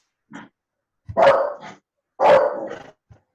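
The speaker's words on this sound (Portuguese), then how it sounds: "Tem um cachorrinho, um cachorrão." A dog barks three times, loud and close, the middle and last barks longer and rougher, with short pauses between them.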